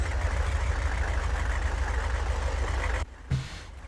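A titanium car engine idling in the Gear Blocks building game, a steady low droning rumble that cuts off abruptly near the end, followed by a brief faint thump.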